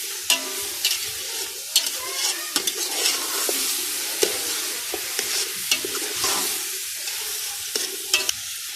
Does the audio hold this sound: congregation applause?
no